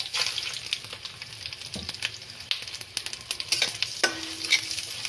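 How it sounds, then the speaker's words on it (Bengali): Moong dal fries in a pan for Bengali bhuna khichuri, a soft sizzle under repeated scraping and stirring of the spoon, with irregular clinks and scrapes from close by. "মুগ ডালটা ভালো করে লাল করে ভেজে নেব।"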